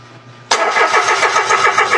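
Mitsubishi Mirage with no fuel reaching the engine cranks on the starter after a faint hum: a loud, rhythmic, chugging whir that keeps turning without catching.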